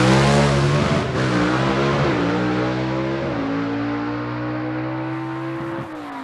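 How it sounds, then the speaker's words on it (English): The engine of an A/Gas gasser drag car at a South Georgia drag strip revs hard to clear its top-mounted carburetors before staging. A loud, close, droning roar shifts pitch a few times, then slowly fades, with no talking. "Christopher clears out the carburetors up top of that line motor and prepares to go into the pre-stage."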